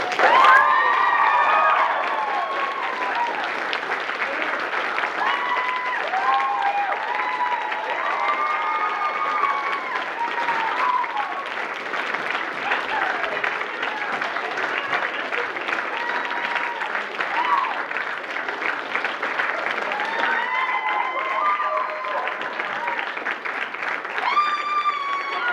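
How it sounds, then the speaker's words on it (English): An audience at a school stage performance of Mystery at Shady Acres applauds the directors in loud, sustained clapping and cheering. Children's excited shouts and voices rise over the crowd throughout. "Round of applause for our directors, Mrs. Bisbal and Mrs. Stark."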